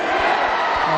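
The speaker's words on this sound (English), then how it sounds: "I just can hear the Keele crowd cheering for their home team" A university varsity sports crowd cheers for the home team, a brief loud roar of many voices with shouting, sustained over a single second.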